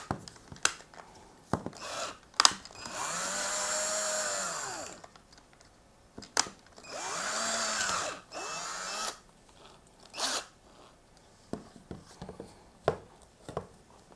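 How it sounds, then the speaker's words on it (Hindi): A Total 18V cordless drill spins up for two sustained bursts of whirring drilling a small hole, each lasting a couple of seconds, close by, with clicks and handling noises around them and a short final rev. "तो सबसे पहले हम सुराख करके देखते हैं छोटी से।"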